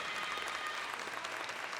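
An audience at a live awards show applauds in a steady, dense wash of clapping that carries on evenly from start to finish, heard from within the hall.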